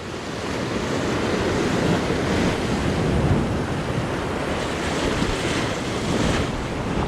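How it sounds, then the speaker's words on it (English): Steady roar of surf and rushing water as an ocean wave sucks back off rocks, with wind buffeting the microphone throughout, loud and continuous. "It's a nice suck back."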